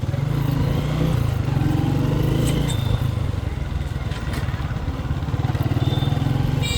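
A motorcycle rides through the busy streets of Tangail city, its engine putting out a close, steady low drone with a shift in tone partway through and faint traffic sounds around it.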